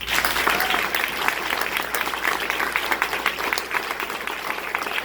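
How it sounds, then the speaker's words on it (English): A gala audience at the Red Diamond Gala 2019 applauds a guest speaker, a dense, steady wash of clapping from a full room that holds at an even level throughout. "So let's give her a hand of applause."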